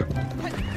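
A horse whinnies in the online racing game Alicia Online, a short wavering neigh over a steady game-audio bed, with a voice faintly underneath.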